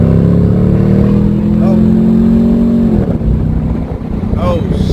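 Straight-piped Chevrolet Camaro ZL1 V8 blares loud and close, holding a steady droning rev before the pitch drops sharply on a downshift, followed by rumbling, popping exhaust, with a voice faintly underneath.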